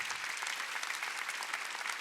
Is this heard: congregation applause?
yes